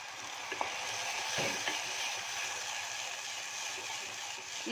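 A spoon stirs jackfruit payasam with coconut milk in a pan on the stove, giving a soft continuous bubbling sizzle with faint scraping strokes, close and steady with no talking.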